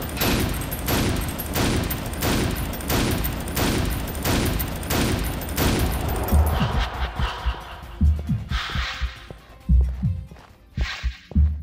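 Shotgun blasts in Painkiller Overdose fire in a steady, evenly spaced run of loud booms, then give way to scattered heavier impacts and thuds as the volley ends.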